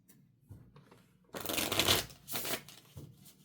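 A worn, soft-edged retro tarot deck is shuffled by hand, a close riffling whir in a couple of bursts with light taps and card handling before and after.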